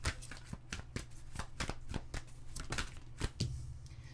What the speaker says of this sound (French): Je vais quand même aller sortir d'autres cartes pour avoir plus